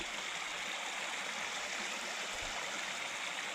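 Creek water flowing through a cemented channel, a steady, soft rushing hiss with no clear breaks or voices.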